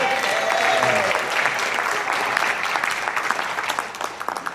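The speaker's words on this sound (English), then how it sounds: "How about a round of applause?" A crowd gives a sustained round of applause for a Baltimore candidate at a 5th District campaign gathering; dense steady clapping, fairly loud, with a faint voice briefly in the background.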